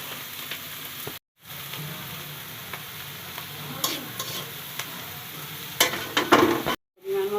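Young jackfruit and prawns sizzling in a hot pan while being stirred, a steady frying hiss with scraping stirs and louder bursts near the end, briefly cut silent twice.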